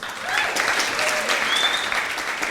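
A student union crowd at an election results announcement breaks into loud, continuous applause with some cheering for a short stretch.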